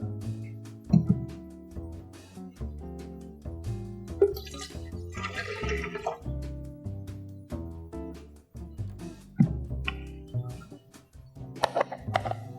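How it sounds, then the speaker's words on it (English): Milk poured from a cup into a clarified milk punch mix, a liquid pour with gurgles and drips near the start, under steady background music. "Adding a cup of milk."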